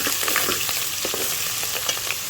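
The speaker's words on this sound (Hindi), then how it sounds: "इसमें मैंने अदरक और लहसुन का पेस्ट डाल देंगे सारा, और इसको अच्छी तरह फ्राई करेंगे" Ginger-garlic paste fries in hot oil left over from browned onions for a beef keema with bell peppers, giving a steady close crackling sizzle with a few stirring scrapes, no talking.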